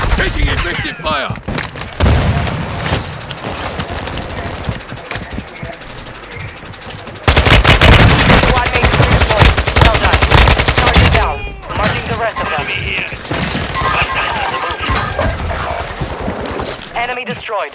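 Automatic gunfire in the video game Call of Duty: Modern Warfare II, dense rattling bursts that run almost throughout, heaviest in a loud stretch near the middle, mixed with game effects and a voice heard under the shooting.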